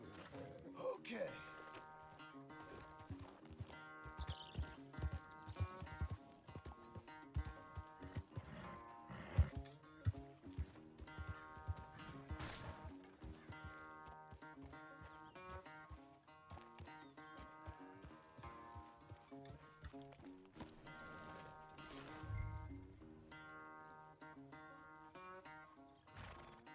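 Horse hooves clip-clop in Red Dead Redemption 2, a steady rhythmic trot under in-game music and ambience, moderately close, with a voice speaking at points.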